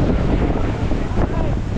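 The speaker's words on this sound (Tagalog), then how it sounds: "Lakas ng hangin." Strong wind roars steadily against the microphone, a dense buffeting rush with a low rumble throughout.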